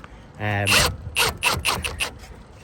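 A Milwaukee power drill drives a nut while changing the rear shocks and springs on a Golf R32: a short, close motor whir, then a run of rapid rasping, ratcheting bursts in an uneven rhythm.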